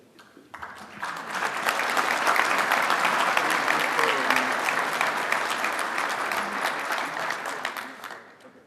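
Sustained crowd applause at a military communications awards dinner, many hands clapping loud and dense, swelling quickly, holding steady for several seconds, then tapering off.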